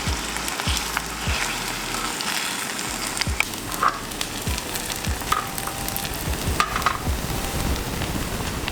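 Corn frying in oil in a pan for Korean bar food, a steady close sizzle with occasional pops and stirring clicks, no voices.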